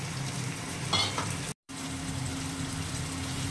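Spices with turmeric and cumin powder sizzle steadily as they are sautéed and stirred in a pan for a light fish curry with ridge gourd and potato. A short scrape of stirring is heard near the start, and the sound cuts out briefly before the frying resumes.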